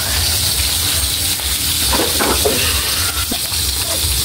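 Stirring coconut milk (gata) simmering in a pot, a steady bubbling sizzle with a few scraping, clinking spoon strokes against the pot partway through, close and fairly loud.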